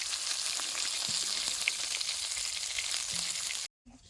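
Mirik fish frying in hot oil in a pan in a village kitchen, a steady close crackling sizzle that cuts off abruptly near the end.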